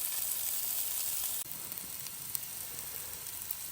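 Jalapeno and banana peppers sizzle in oil on a Blackstone griddle outdoors, a steady bright hiss that drops a little partway through, with light crackles and no voices.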